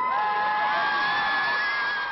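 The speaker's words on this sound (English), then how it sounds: "Lots of screaming tonight." A crowd of fans at an outdoor concert, high-pitched screaming and shrieking carrying on steadily and loudly throughout with no break.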